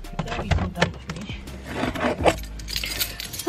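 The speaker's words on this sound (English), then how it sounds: "let me make sure I didn't leave my key in the door" A bunch of keys jangles and rattles up close in irregular bursts, mixed with rubbing and scraping handling noises, with no talking.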